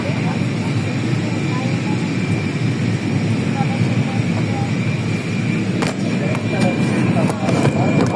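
Steady, loud roar of airplane cabin noise as the plane approaches landing, a broadband engine drone that fills the whole stretch, with a few faint clicks near the end.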